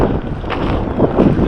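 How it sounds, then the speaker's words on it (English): A 1977 International diesel tractor pulling a tiller rumbles steadily in an open field, its low engine drone partly buried under heavy wind buffeting on the microphone. "1977 International diesel tractor, still getting the job done with the tiller."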